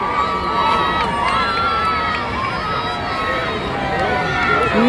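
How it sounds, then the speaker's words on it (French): Large outdoor crowd cheering at the Pope's arrival in the DR Congo, a loud, unbroken roar of shouts, whistles and excited voices close around the listener throughout. "Foule de monde."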